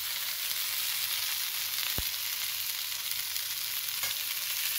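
Eggplant slices sizzle in a small amount of oil in a small pan, cooked to a crispy finish. A steady, close frying hiss runs throughout, with one sharp click partway through and no voices.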